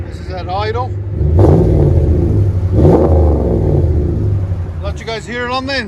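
A RAM 1500 5.7L Hemi running through Flowmaster exhaust gives a steady low burble nearby, rising in two short surges, while people speak at the start and end.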